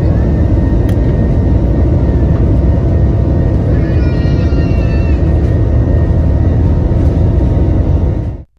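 Inside the cabin of a Spirit Airlines jet departing LaGuardia Airport at night, a loud, deep engine roar fills the space steadily for about eight seconds before cutting off abruptly.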